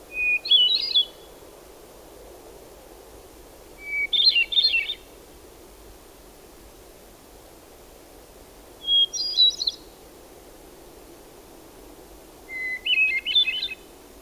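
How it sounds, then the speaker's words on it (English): A hermit thrush sings four separate phrases, each opening on a pure note before a quick fluttering flourish, spaced several seconds apart over quiet ambient background. "hermit thrush songs start with a single note"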